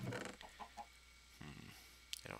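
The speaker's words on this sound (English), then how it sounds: "That's a chicken. Who just pooped an egg at me." Chicken clucking in the Minecraft game, a few short clucks scattered over a quiet background with brief gaps between them.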